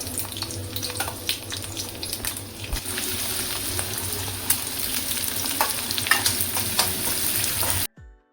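Green chillies sizzle and crackle in hot oil alongside onion and garlic, a steady frying hiss with stirring clicks and scrapes throughout, close and continuous before cutting off abruptly near the end.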